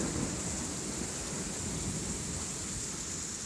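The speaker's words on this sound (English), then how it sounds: "So much rain." Heavy rain pours steadily onto a flooded street, a dense even hiss with a low rumble of thunder underneath and no voices.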